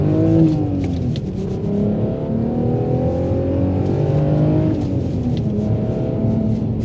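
Manual Porsche Cayenne SUV, 22 years old and 2.2 tons, driving on the road: a loud, close engine drone rises and falls through gear changes, with a steady rumble beneath and no talking.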